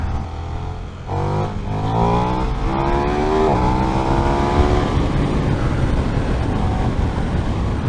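A KTM 1390 Super Duke R motorcycle accelerates hard, its engine note climbing steadily through the gears under strong, continuous wind roar close to the rider.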